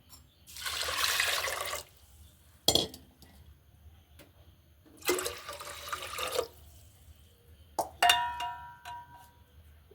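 Water is poured in separate bursts into a pressure cooker holding two cups of rice, giving gushing splashes, with metallic clinks of the pot in between and no talking.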